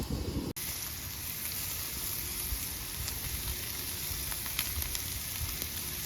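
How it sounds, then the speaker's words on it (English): Picanha steaks sizzle on a grill in a soft, steady crackling hiss, with one brief click near the start. "so we got these sizzling here"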